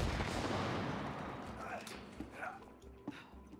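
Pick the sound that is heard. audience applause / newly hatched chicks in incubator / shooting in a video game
shooting in a video game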